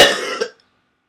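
A single close, harsh cough, a short rough burst with a small second catch, then silence.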